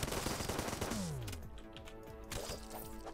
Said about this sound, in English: Let's shoot these jerks.